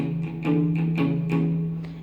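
Palm-muted electric guitar riff in a bouncing shuffle rhythm, short chugged notes over a steady low tone, close and moderately loud.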